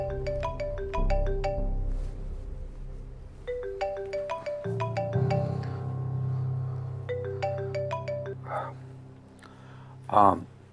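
A phone rings while someone places a late-night call, a repeating electronic ringtone melody in short bursts over a soft musical bed, with a brief louder sound near the end.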